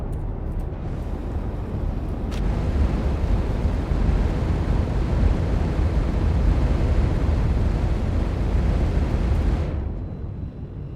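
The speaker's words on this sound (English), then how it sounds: "Takeoff complete." A video game spacecraft takes off with a loud, steady, broad roar that swells and holds for several seconds, then thins out near the end.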